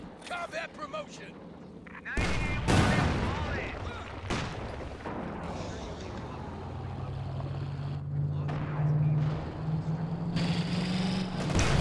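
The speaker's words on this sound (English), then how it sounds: "There's like quite a few shots, not really finding their mark" Company of Heroes 2 battle with sharp bursts of gunfire and heavy booming shots over a rumbling engine drone, mid-distance and continuous, with a commentator talking throughout.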